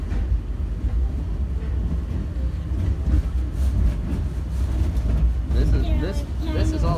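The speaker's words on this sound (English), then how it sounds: "And there's the other train, which is arriving, and we're already leaving." An airport subway train departs between terminals, a loud steady rumble of wheels and motor building over several seconds with a rising whine near the end, while people talk over it.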